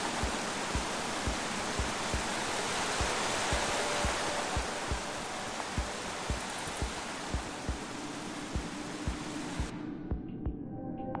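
Steady broadband roar of a waterfall in Minecraft Story Mode, continuous and close, with a faint regular low thumping underneath before the rush cuts off near the end.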